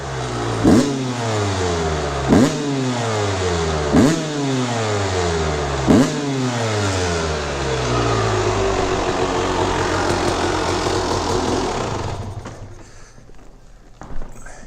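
A 1997 Honda CR250R two-stroke dirt bike engine revs up sharply four times in a rhythmic pattern, then holds a high buzzing whine before dropping off near the end.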